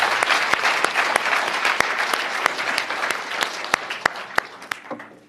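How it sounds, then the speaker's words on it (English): Applause at the close of a debate round at UC Berkeley, with many hands clapping close by, starting full and gradually thinning as a few sharp individual claps stand out before it fades away. "If you have, yes, applause is appropriate."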